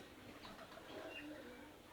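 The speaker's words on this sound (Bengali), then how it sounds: "তো রেসার আছে এক জোড়া, আর দেশি কিছু কবুতর আছে।" Pigeons in a home loft, a pair of racing pigeons with some local breeds, coo softly and faintly beneath a steady background hiss, with no clear talking.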